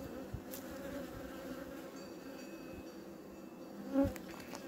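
Honeybees in a queenless hive produce a steady low droning buzz up close, with a few louder individual bees passing near.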